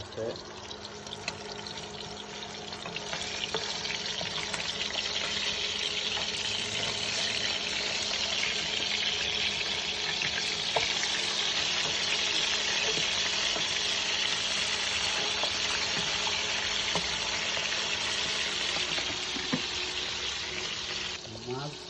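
Rohu fish frying in a hot wok, a steady loud sizzle with crackling oil that holds evenly throughout, with faint scraping underneath.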